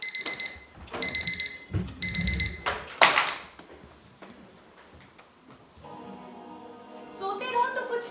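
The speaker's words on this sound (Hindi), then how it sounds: "अगर जागते में सुनाई दे तो ये सचमुच में अलार्म जैसा सुनाई देता है" An alarm clock rings in several sharp, repeated bursts during the first few seconds, loud and close, then gives way to quieter scattered tones and chirps.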